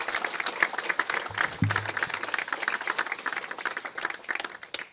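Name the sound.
audience applause for graduates at ceremony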